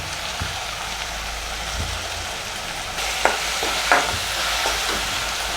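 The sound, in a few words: onions sautéing in a pan for prawn gravy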